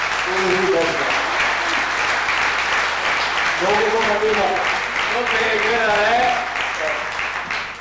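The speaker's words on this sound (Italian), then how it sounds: "allora che facciamo un applauso" A small gathering bursts into applause for someone's upcoming birthday, loud close clapping running the whole time while voices talk, laugh and call out over it before it thins at the end.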